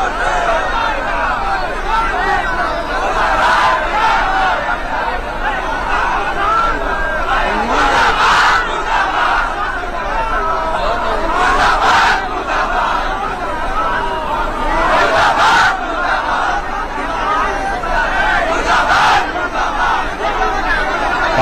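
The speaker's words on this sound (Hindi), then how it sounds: "पाकिस्तान मुर्दाबाद के नारे लग रहे हैं वहां पर" A large crowd chanting anti-Pakistan slogans in repeated rhythmic bursts, loud and dense, with overlapping voices and general crowd noise between chants.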